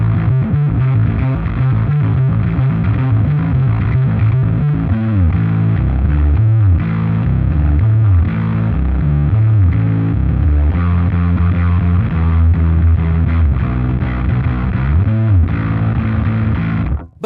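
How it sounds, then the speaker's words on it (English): Bass guitar played through a Fuzzrocious Cat King drive pedal, loud and gritty with thick distorted low notes in a continuous riffing line, ending abruptly. "the Cat King is no different in that regard. This is a dirt pedal"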